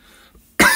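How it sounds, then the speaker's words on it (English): A single sharp, loud cough bursts out after a moment of near silence, close to the microphone. "Apologies if I do cough,"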